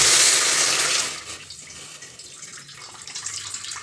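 Water pours briefly from a tap into a pot for boiling amla, a rushing splash that fades after about a second into quiet clinks.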